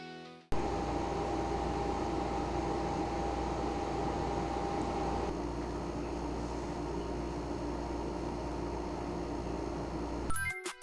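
Carrier 20-litre dehumidifier running, a quiet, even fan-like whoosh with a faint low hum that starts abruptly and holds steady for about ten seconds before cutting off.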